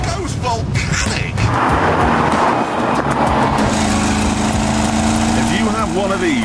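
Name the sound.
Jaguar XK Convertible engine under hard acceleration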